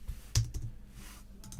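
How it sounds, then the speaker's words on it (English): Typing on a computer keyboard: a few close, sharp key clicks come in a short uneven burst, one louder than the rest, with no voice. "let me type this at the top actually"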